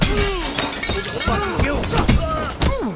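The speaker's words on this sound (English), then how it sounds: "The sound of glass bottle breaking from impacting somebody." A glass bottle smashing on impact during a fight in the video game Sifu, a loud shattering crash that comes under music and game effects with several overlapping hits.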